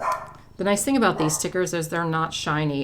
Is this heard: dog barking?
yes